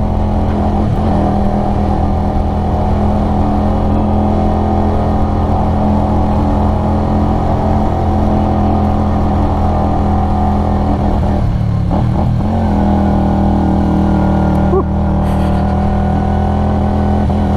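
Keeway V250Fi motorcycle from 2022 pulling up a steep hill in second gear, its engine a steady, loud low drone with layered harmonics, briefly dipping and surging midway as the rider eases off and back on.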